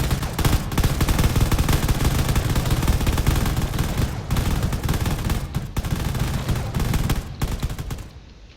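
A Corvette's burst fire cannons rattle off in a space battle game, dense rapid volleys that hammer on for several seconds with brief gaps, loud and close, before trailing off.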